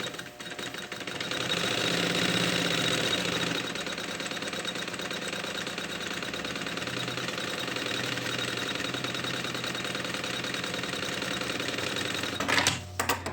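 A sewing machine runs a quick edge stitch securing lining onto a backpack pocket, a rapid mechanical rattling hum sustained for several seconds, with a brief pause and clatter near the end and no talking.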